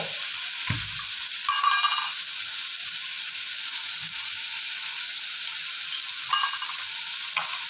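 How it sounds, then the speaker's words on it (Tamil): Spices such as garam masala being stirred into egg kothu chapati frying in a pan, a continuous sizzle with scraping spoon strokes and occasional clinks. "கொஞ்சமாக கரம் மசாலா தூள், போட்டு எல்லாத்தையும் நல்லா கிளறி விடும்"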